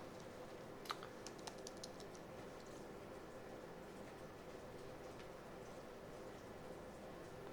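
Quiet, soft keystrokes tap on an aluminum Apple Magic Keyboard with numeric keypad, a membrane-like feel giving muted, non-clicky presses in a brief burst near the start and scattered taps after, close up against low room hiss.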